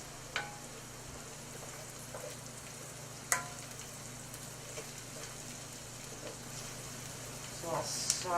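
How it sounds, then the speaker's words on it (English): Dried dill sizzles softly in a pan for a pistachio salmon pasta, a faint steady frying hiss with a few sharp clinks of a utensil against the pan. "So I'll saute that a little bit more until they're soft"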